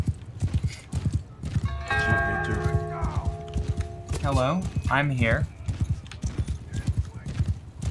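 Horses gallop in the video game Bannerlord, a dense drumming of hooves running all the way through, with a whinny and other game sounds in the middle and someone speaking briefly over the top.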